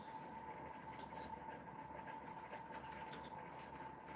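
A pulse motor spinning at 1,000 RPM gives a steady, even whine with a constant rushing hum underneath, holding level without change throughout.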